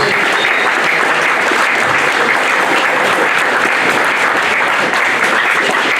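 Loud, sustained applause from a large crowd at a TSV home match against Bietigheim, a dense and even wash of clapping that continues throughout.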